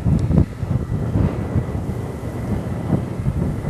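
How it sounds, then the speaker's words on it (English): Gusty outdoor wind buffets the microphone near a ravine, a low rumbling roar with irregular swells and no talking. "kind of blowy out here"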